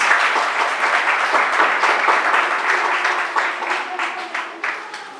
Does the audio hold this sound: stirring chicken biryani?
no